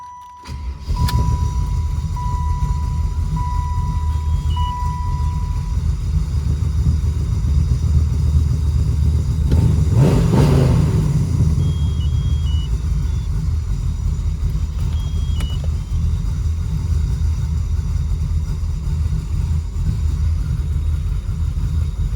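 A car engine with a big cam idles high after tuning, a loud, steady, close rumble lasting the whole stretch, with a brief warning beep early on and no talking.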